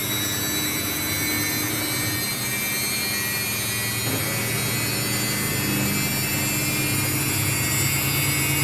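A Samsung front-load washing machine spinning at 1,200 RPM gives a steady, loud whirring hum with high mechanical whine, continuous and unchanging throughout, with no talk.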